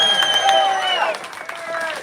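A crowd at a rally outside the Russian Consulate cheering and applauding, with loud whoops, whistles and shouting voices layered over scattered clapping, sustained and close throughout.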